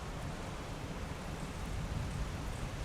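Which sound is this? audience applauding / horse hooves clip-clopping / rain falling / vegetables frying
rain falling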